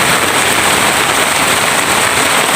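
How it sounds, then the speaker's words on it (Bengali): Heavy rain pours down in a dense, loud, unbroken hiss that stays constant throughout, with no voices heard. "আজকে শেষ রমজান আজকে প্রচন্ড পরিমাণের বৃষ্টি"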